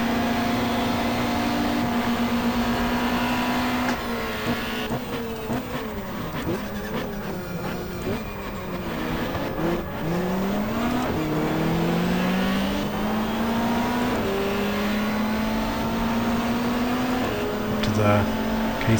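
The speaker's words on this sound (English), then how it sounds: "Closing in on 11th place. Past the Ian Spurl Peugeot" Race car engines roar in the GTR2 racing game during a 1994 Pukekohe 500 race with a Peugeot and a Supra in the field. Revving engine notes climb, drop and shift gears continuously, with cars closing in and passing.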